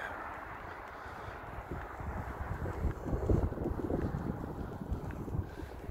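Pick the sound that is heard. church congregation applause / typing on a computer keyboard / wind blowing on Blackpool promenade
wind blowing on Blackpool promenade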